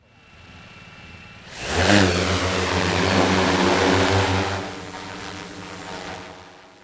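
A resistance fighters' bomber drone in Myanmar flying with propellers, a buzzing motor whine that swells loudly as it passes close, holds steady, then eases off.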